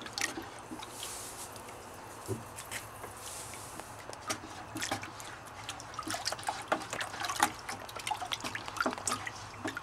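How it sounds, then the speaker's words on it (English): Water runs and drips over dyed paper pulp as the extra colour rinses out during Japanese papermaking, trickling softly with scattered splashes and drops. It stays faint and close, with no talking. "extra color has to be rinsed out of the pulp completely before the cakes can be made"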